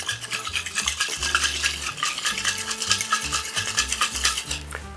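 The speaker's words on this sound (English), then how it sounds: "we're doing a dry shake" A cocktail shaker holding an egg-white mix shaken dry with no ice, a steady, busy rattling and sloshing that runs unbroken for several seconds.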